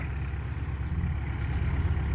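A modified farm tractor engine runs steadily with a continuous low, throbbing rumble at close range and no voices.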